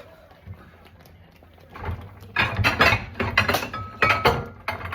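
A bowl and cast iron cookware clink and scrape while sausage gravy is cooked the old-style way, with a run of sharp metallic knocks and rattles close by after a quieter start.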